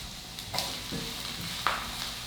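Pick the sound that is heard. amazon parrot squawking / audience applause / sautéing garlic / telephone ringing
sautéing garlic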